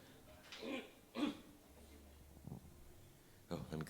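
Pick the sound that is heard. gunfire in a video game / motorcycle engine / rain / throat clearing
throat clearing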